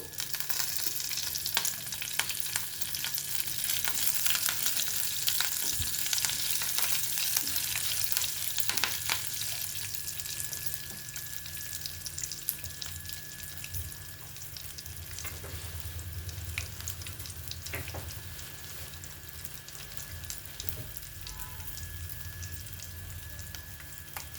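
Garlic and curry leaves sizzle in hot oil for a tempering while cooking a radish and tomato curry, a steady close crackling hiss with scattered pops and stirring, louder at first and then easing, no talking.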